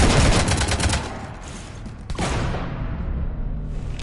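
Gunfire hitting a ship in a PS4 space shooter, with a dense burst of rapid shots up front easing into a sustained, rumbling barrage that carries on after a brief sharp blast.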